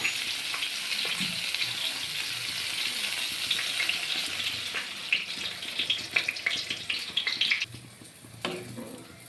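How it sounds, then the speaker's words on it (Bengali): Water poured into a pan of cauliflower and potato masala that has been fried with spices, a steady close sizzle and splashing hiss that thins out toward the end. "এবার আমি এর মধ্যে পরিমাণ মতো জল দিয়ে দিব।"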